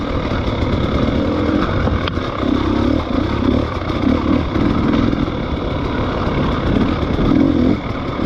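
Motorcycle with spun bearings being ridden, a continuous engine drone with rough, pulsing clatter and small surges in revs, close and loud for the whole stretch.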